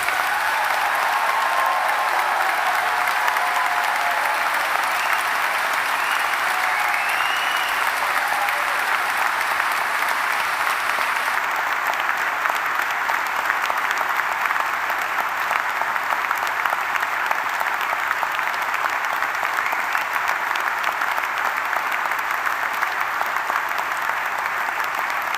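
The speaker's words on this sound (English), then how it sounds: "Please join me in giving all of our new graduates a big round of applause." Sustained audience applause for new graduates at a university graduation ceremony, a steady dense wash of many hands clapping in a large hall, loud and continuous for the whole stretch without letup.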